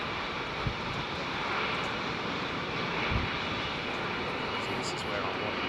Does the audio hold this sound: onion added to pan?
no